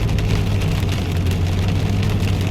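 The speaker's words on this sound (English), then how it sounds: "I'm listening to the rain pelting down on top of my car" Heavy rain pelting down on a car roof, heard from inside as a dense, continuous patter with a low steady hum beneath it, no voices.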